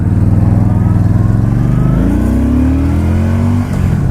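A loud motor vehicle engine revs hard and climbs steadily in pitch, held close and continuous for several seconds, with no talking over it.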